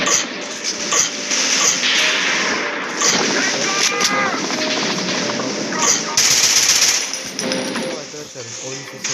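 Automatic gunfire from the video game Commando Mission Gun Games 3D rattles loudly in sustained bursts with game effects, while someone speaks over it.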